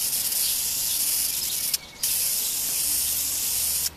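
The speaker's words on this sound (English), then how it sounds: "now we're going to spray paint the ones with the hearts on them" Steady hissing spray from an aerosol spray paint can coating a glass mason jar, running continuously with a brief pause midway before resuming.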